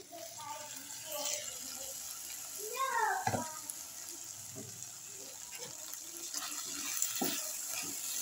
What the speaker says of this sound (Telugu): కొద్దిగా వాటర్ వేసుకున్నాను ఫ్రెండ్స్.